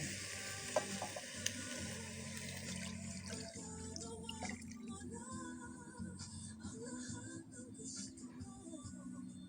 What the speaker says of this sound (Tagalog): ginisa natin ng konti